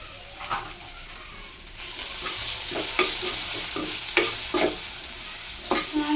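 Spices are stirred into drumstick Manchurian in a hot pan, with repeated spoon scrapes cutting through a constant frying sizzle. Close by, with no speech.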